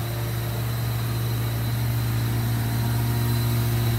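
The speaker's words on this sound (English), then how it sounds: "I'm going to have to leave it running like this for about a minute with the choke engaged." A small engine idles with its choke engaged while warming up, giving a steady, unbroken low drone at a constant level with no talk over it.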